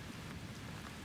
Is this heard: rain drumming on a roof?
yes